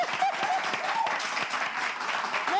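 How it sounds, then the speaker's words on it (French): An audience applauds at a women's day show in a hall, a dense, steady wash of clapping that carries on evenly with faint voices calling out beneath it. "Si tu aimes toutes les femmes, applaudis"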